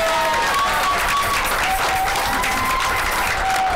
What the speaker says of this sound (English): let's give her a round of applause just because she formulated this Only a Dream Away children's cancer camp